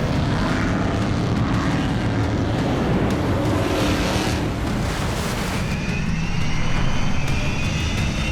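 A D3 Chaser 980 amphibious water tank vehicle runs with a loud, constant engine roar and a broad rushing wash that holds steady throughout, with no voices.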